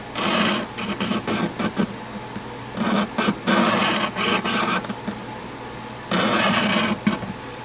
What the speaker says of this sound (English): So I'm trying to rub along that wall to see if I get rid of that lip.